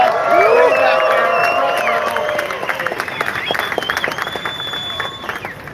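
Large outdoor crowd in downtown Detroit cheering, whooping and applauding at the 2024 Ford Mustang S650 reveal, loud and sustained, with a voice on a PA speaking over the noise.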